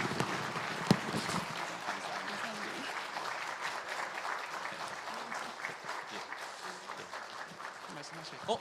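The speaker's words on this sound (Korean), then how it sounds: "우리 한번 큰 박수 전해주겠습니다." A church congregation applauds members being honoured during a Sunday worship service: steady, dense clapping throughout, moderately distant, with faint voices mixed in.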